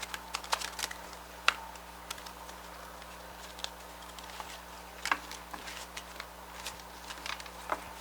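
Soft, irregular tarot-card shuffling clicks and patters close by, scattered taps and riffles over a low steady hum.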